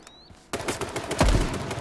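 Gunfire in H1Z1: a few quick shots crack out after a short quiet start, one heavier report standing out near the end, fairly close and punchy.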